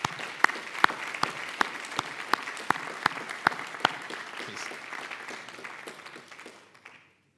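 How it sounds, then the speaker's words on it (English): An awards ceremony audience at a closing plenary applauds the first place winner, a moderate room of clapping with a few loud, sharp individual claps standing out near the front, fading out to silence after about seven seconds. "join me in a round of applause"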